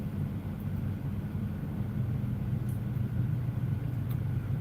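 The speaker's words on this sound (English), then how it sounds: "this truck over here is idling" A nearby truck idles with a steady low rumble that holds evenly throughout, with no voices over it.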